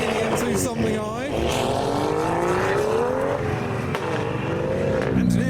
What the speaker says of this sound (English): Some of the cars can't be bothered to wait for the convoy, so they're leaving a bit early